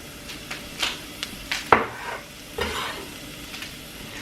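Garlic frying in olive oil in a pan, a soft steady sizzle broken by several spatula scrapes and stirs against the pan, one sharp clatter near the middle, close and clear without talk.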